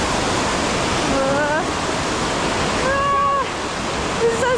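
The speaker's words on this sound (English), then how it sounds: "Water." A rushing mountain stream in Nepal roars steadily and loudly, a dense broadband wash of water, with a few faint high tonal calls or squeaks rising briefly above it.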